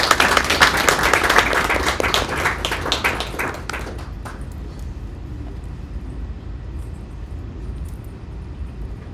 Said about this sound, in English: Everyone give a round of applause while we set this up.